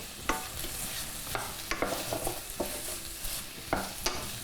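Grated jackfruit fries in hot oil with a steady crackling sizzle, broken by several sharp clicks and scrapes of a utensil stirring it in the pan, close and fairly loud.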